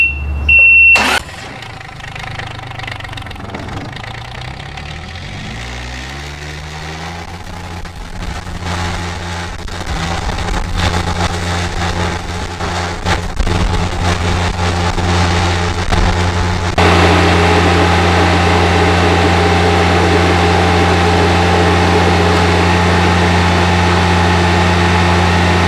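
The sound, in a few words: riding lawnmower engine starting and running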